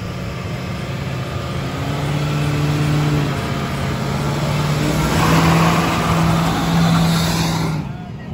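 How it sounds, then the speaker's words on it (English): A car doing a burnout holds a loud, sustained engine roar with the pitch rising and falling as it revs, the dense noise of spinning tires beneath, close by and continuous before cutting off at the end. "Your first burnout."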